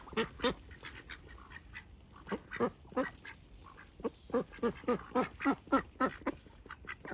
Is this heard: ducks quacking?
yes